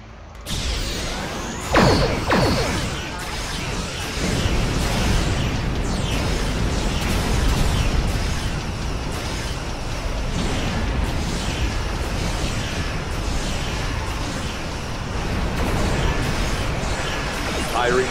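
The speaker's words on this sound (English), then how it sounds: "Firing station plasma lance in 3, 2, 1." Heavy booming explosions and energy weapon fire from a plasma lance in the Star Trek Online space battle game, dense and continuous, with loud blasts and rumbling crashes layered under talk.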